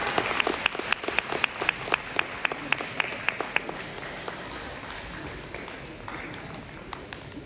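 Audience at a university commencement ceremony applauding, with a steady crowd clapping bed and distinct nearby hand claps repeating in a regular rhythm, gradually thinning into softer applause.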